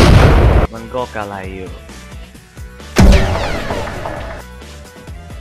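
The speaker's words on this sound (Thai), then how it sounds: "อันนี้เป็นเสียงระเบิด" A loud explosion blast opens, then a second booming burst follows a few seconds later; a voice speaks briefly between and after them.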